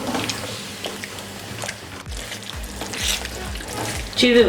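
Chicken korma curry cooking in a pan, a steady soft sizzle with wet stirring and scraping, a brighter clatter at the end.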